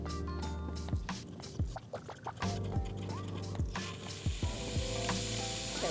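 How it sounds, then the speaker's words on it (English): An espresso machine's steam wand purging, a hissing burst of steam over clicks and clattering mechanical sounds from the machine, moderately close in a quiet kitchen. "just wait until it lets out a little bit of steam. So this is called purging."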